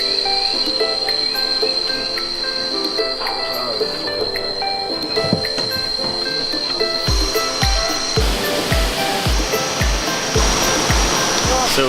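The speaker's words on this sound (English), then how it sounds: "So this is the first waterfall right behind me, and the water's looking so clear, so nice." Kuang Si Falls, a waterfall in a national park near Luang Prabang, roars as a steady broad rush of water, with rhythmic thumps and insect-like tones layered over it.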